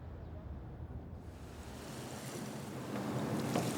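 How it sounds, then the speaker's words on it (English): A ferry pulls out of Hakata port in Japan bound for Korea, with a steady rush of waves and wind against the hull that swells slightly louder toward the end, and no voices. "We're just about to leave Hakata port in Japan for the ferry trip to Korea"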